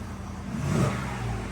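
A short, deep exhaust rumble from a 2021-2023 Ford F-150 pickup with an MBRP dual rear exit exhaust swells as the engine revs up briefly, then eases back, moderately loud and close.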